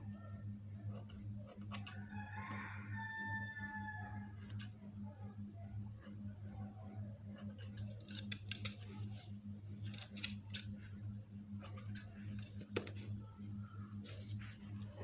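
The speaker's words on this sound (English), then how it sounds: "at this point, we are going to cut our net for inserting in the middle" Scissors snipping through net fabric for a dress insert, a series of crisp close cuts that cluster in quick bursts over a quiet low hum.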